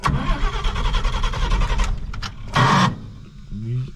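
A 1950 Chevrolet Deluxe that is having its brakes worked on: the starter grinds rhythmically for about two seconds, then the engine catches with a loud burst and settles into a rough idle.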